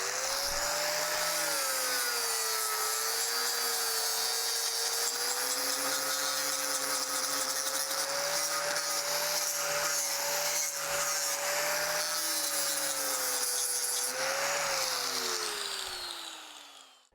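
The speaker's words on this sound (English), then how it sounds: "now after you're done with the rock, get your sanding pad and smooth it out." A sanding pad grinds steadily across a welded iron rail, making a loud, continuous whine with a shifting pitch that holds for about sixteen seconds and then cuts off.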